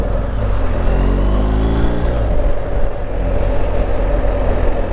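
Kalamata GSA motorcycle riding along a road, a steady close engine drone with shifting harmonic whine and wind rush, continuous and fairly loud throughout.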